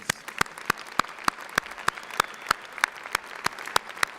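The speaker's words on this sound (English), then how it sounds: "Give them a big round of applause." Sparse, distinct hand claps ring out at a steady rhythm from a graduation audience honoring families, each sharp clap separated by quiet, with no talking.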